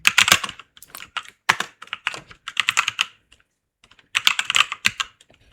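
Fingers type on a computer keyboard in quick bursts of loud, close keystrokes with short pauses between runs and a longer gap before a final flurry.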